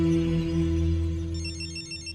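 A telephone rings nearby, a shrill electronic trill over a steady low hum, continuing with a repeating pattern.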